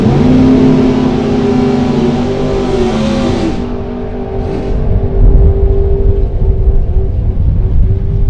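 At a LODRS drag race in Great Bend, a 65 Chevelle with a 600 cubic inch Chevy engine and an 89 Mustang with a 572 cubic inch Ford engine launch with a loud, roaring whine. The roar fades into the distance, then a deep rumble rises nearby.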